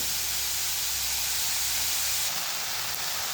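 Onion roasting in a thick, heavy pan, a steady close sizzling hiss that holds level throughout with a slight shift near the end, and no voices.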